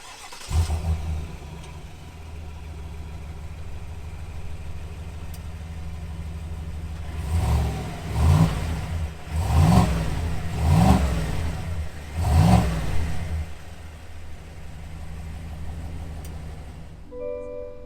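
A 2021 Cadillac Escalade Sport SUV starts up and idles steadily, then revs several times in a row, the rising engine surges pulsing close by before it settles.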